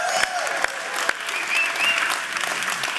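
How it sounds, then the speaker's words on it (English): Conference crowd applauding the organizers of the first World of Incentro, sustained clapping with a few sharp nearby claps and some whoops or cheers rising over it. "Let's give them a massive round of applause."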